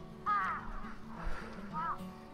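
Crows cawing near worker housing built from used shipping containers in Japan, a few harsh calls set apart at a moderate distance, heard under someone talking.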